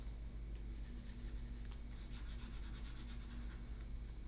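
Erasing writing on a board with continuous close rubbing and scrubbing strokes, faint and steady for a few seconds with no voices.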